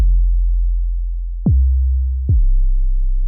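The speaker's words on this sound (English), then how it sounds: "So now you got the 808 and it sounds something like this." Deep, booming synth bass notes: a long low tone, then two more hits each starting with a quick pitch drop before settling into a sustained rumble.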